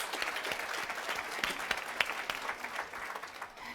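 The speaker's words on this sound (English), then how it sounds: "Round for you, a round of applause." Audience applause at the opening remarks of the seventh BlogPaws event in 2015, a steady wash of many hands clapping close and fairly loud, with a few sharper claps standing out, fading slightly at the end.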